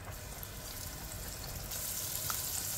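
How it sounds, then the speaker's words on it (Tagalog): Flour-dusted fish fries in a pan with a soft, continuous sizzle that stays faint and even throughout. "Ngayon, magprito tayo ng isda."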